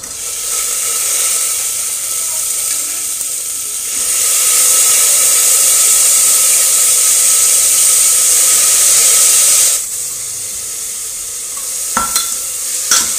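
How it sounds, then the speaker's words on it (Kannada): Chopped radish frying in a hot pan for a fenugreek-leaf and radish stir-fry cooked in ghee, a loud continuous hiss and sizzle that swells midway, then drops back, with a few sharp clicks near the end. "ಇದೆಲ್ಲ ಫ್ರೈ ಆದಮೇಲೆ ಮೂಲಂಗಿ ಹೆಚ್ಚಿಟ್ಕೊಂಡಿದ್ದೀವಲ್ವ ಅದನ್ನು ಹಾಕ್ತಿದ್ದೀನಿ"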